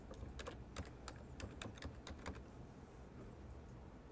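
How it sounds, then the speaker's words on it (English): Someone types a category name on a computer keyboard, with a quick run of light key clicks over roughly two seconds that then stops, leaving faint background hiss. "I'm just typing in the name of the category and hitting Save Changes."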